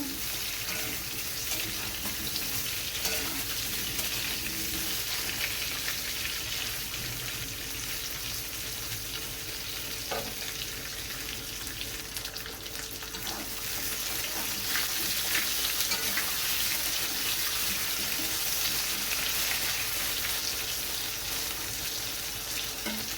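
Raw green banana slices sizzle in oil seasoned with black cumin, a constant even hiss close by with only faint stirring, no voices.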